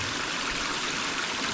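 Steady rushing trickle of water draining through a broken beaver dam, a continuous close-up gurgle and hiss with no pauses and no voices.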